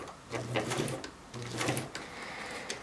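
A 1951 Pfaff 130 domestic sewing machine with an onboard motor runs at slow speed, stitching one stitch at a time. Two short bursts of mechanical whirring and clicking stand out over a quiet room.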